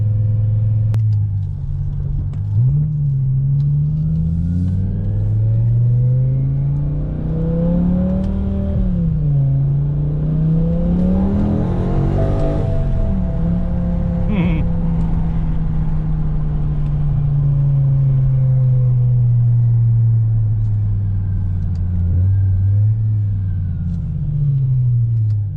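A BMW E60 M5 with its S85 engine, running at half power with misfire codes, drones loudly on a test drive, pitch rising and falling through repeated revs and shifts, with a long steady pull near the end.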